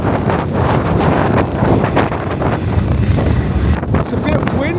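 Strong wind buffeting a microphone outdoors in Rotterdam, a loud continuous rumbling roar that surges and eases throughout.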